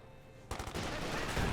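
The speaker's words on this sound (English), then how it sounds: "MG42 setting up there in the green cover of the haystash." MG42 machine gun fire in a World War II strategy video game, a sudden burst of rapid rattling shots that starts after a brief quiet moment, fairly faint and distant.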